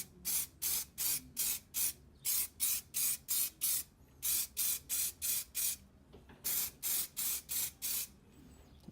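Spray paint is applied as a second light coat to Honda S2000 wheel hubs set on pieces of cardboard, heard as a steady series of short, loud, evenly spaced hissing bursts, grouped in runs with brief pauses between them.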